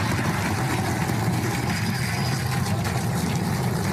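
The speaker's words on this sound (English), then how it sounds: "Booster landing burn. Seeing 13 engines." SpaceX Super Heavy rocket booster firing 13 engines in its landing burn while coming in for a tower catch, a dense, steady, distant roar of rumbling noise with no break.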